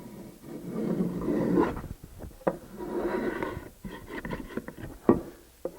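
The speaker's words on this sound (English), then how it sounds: "just take a hand plane and trim the back off a little bit." A hand plane trims the back of a wooden drawer for a corner cabinet, giving two long, close rasping strokes followed by a few sharp knocks and clicks.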